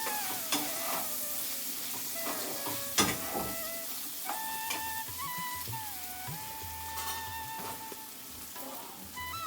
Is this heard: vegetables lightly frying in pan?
yes